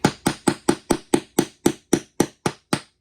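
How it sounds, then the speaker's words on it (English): A framing hammer pounds a T-nut into a climbing wall panel with twelve sharp, evenly spaced strikes, close and loud with a steady rhythm. "hammering it about halfway and then using your framing hammer doing this. Pound it in"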